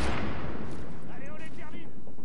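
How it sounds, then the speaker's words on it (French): A grenade blast in the shooter game The Division booms loudly at the start and then rumbles and decays, with a voice talking over the tail. "Allez, on va tenter une grenade."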